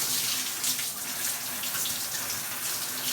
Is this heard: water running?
yes